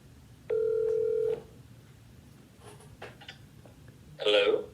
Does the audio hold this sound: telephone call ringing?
yes